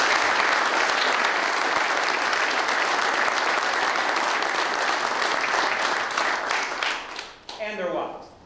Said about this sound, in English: if we could please just another round of applause for the members who came